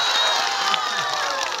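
An audience at Sura Routray's speech in Lower P claps and cheers in a dense, continuous burst of applause mixed with crowd voices.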